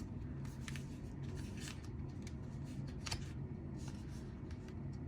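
Tarot cards being handled and shuffled close up, with soft papery rubs, flicks and crisp snaps repeating irregularly at low volume.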